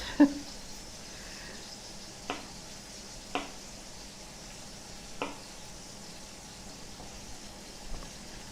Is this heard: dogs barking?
no